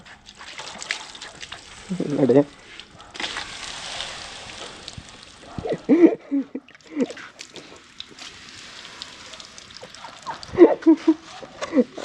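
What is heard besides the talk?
water being poured to wash a vehicle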